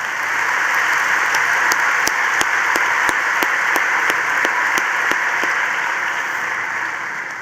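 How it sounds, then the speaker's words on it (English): A large crowd at a high school graduation ceremony gives sustained, dense applause, a loud even roar of many hands clapping with a few sharper individual claps standing out, and no talking. "Please join me in a round of applause for these leaders."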